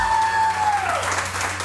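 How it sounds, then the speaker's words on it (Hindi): A television studio audience claps for themselves, the applause swelling in as a tone glides downward and fades, then continuing as a steady burst for the remainder. "एक मरतबा फिर अपने लिए तालियां बजाओ।"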